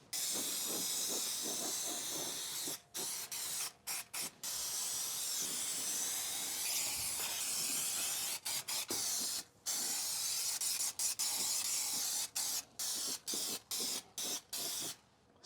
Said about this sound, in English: Always be sure to test spray away from your work area to make sure you don't get any funky sprays.